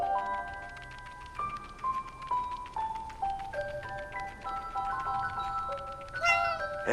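A cat in the video game 11-11: Memories Retold meows in a series of clear, drawn-out tonal cries that step down in pitch, close and distinct over a soft ambient background, with a sharper higher call near the end.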